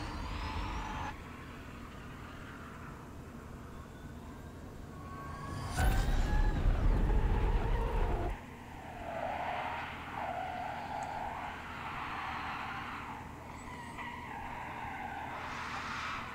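Ken Block's electric Audi spins donuts in Las Vegas, tires skidding and squealing in a sustained rough roar that swells loud for a couple of seconds, then settles into a continuous lower rumble.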